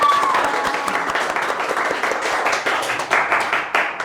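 Applause from a class audience in a university teaching session, a dense steady round of many hands clapping close by for about four seconds, with no talk over it.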